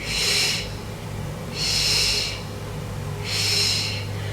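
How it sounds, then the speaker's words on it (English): Three strong, evenly spaced breathy exhalations during a Pilates single leg stretch, each a loud close hiss lasting about a second, separated by quieter pauses over a low steady hum. "And we're breathing."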